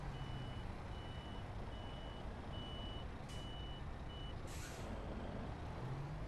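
In Euro Truck Simulator 2, a truck backs up while parking its trailer: steady, evenly spaced reversing beeps repeat throughout, with two short hissing air-brake bursts partway through, and no one talks.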